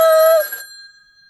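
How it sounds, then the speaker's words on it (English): A telephone bell rings once, loud and close, then cuts off into a fading ring-out with no other sound around it. "the phone rang"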